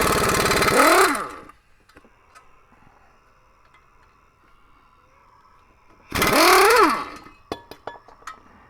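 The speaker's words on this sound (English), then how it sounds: "obviously I'm using air tools" Two loud bursts of an impact air tool rattling out brake caliper bracket bolts on a 2007 Ford Taurus front brake, each burst about a second long, separated by a quiet pause with faint shop clicks.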